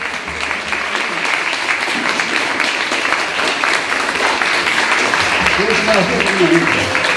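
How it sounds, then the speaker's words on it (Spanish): An audience at a book fair gives sustained applause to schoolchildren from a Lurín school, a loud, even roar of clapping that carries on for several seconds with some voices and talk mixed underneath. "vamos a darle un fuerte voto de aplauso aquí a nuestros niños"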